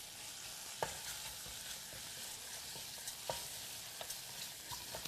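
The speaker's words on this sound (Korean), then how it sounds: "양념이 잘 된 고기와 표고를 볶아줍니다." Seasoned beef and shiitake mushrooms stir-fry in a pan heated with sesame oil, the steady soft sizzle broken by occasional light taps and scrapes of a utensil, close but fairly quiet, with no voices.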